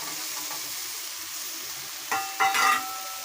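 Tomato and spice paste sizzling in oil while being stirred in a pan, a steady soft frying hiss with a few sharper scraping bursts near the end.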